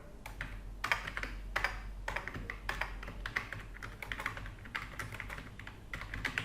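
Quick, uneven bursts of keystrokes tap on a computer keyboard, close and fairly quiet, with short pauses between clusters of typing and no voices.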